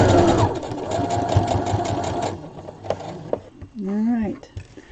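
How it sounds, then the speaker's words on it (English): Sewing machine stitching around the casing of an 18-inch doll's peasant top, a close rhythmic whirring run that stops partway through, followed by small clicks and a brief voice-like sound. "I'm just going to sew all the way around."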